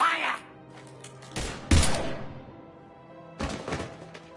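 Gunfire from a Mass Effect 3 firefight, a few heavy bursts and thumps separated by quieter gaps, with a voice heard faintly in the mix.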